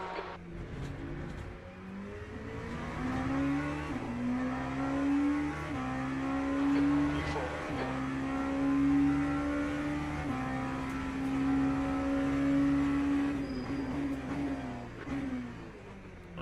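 A V8 Formula 1 race car engine in the F1 25 video game sounds loud and steady, with a sustained high whine that climbs through the gears. Brief dips mark the shifts before the pitch rises again, and no voices talk over it.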